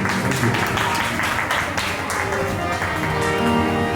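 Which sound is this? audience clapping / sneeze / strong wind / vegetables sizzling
audience clapping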